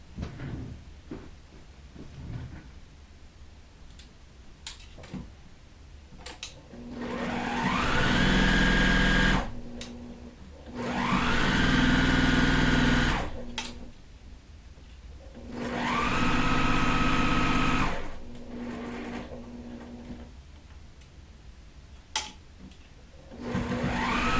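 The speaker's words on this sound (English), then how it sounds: "Now when I sew this, I'm going to hit that X" A sewing machine stitches quilt block pieces in three sustained whirring runs of a few seconds each, rising in speed and then stopping, with quiet handling clicks between runs.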